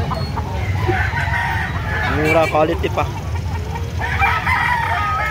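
Nearby, a white-legged gamecock in Cebu City lets out a single loud crow midway, among scattered clucks and crowd noise, while someone talks throughout.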